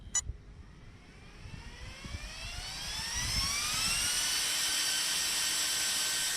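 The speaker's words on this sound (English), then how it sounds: "what is pretty cool about this direct replacement fan for the Mamba Monster X 8S, we're gonna run it on 3S right now" A replacement cooling fan for a Mamba Monster X 8S speed control in an Arrma Kraton 8S RC car, running on 3S, spins up from slow to a loud, steady, high-pitched whine that climbs in pitch over several seconds.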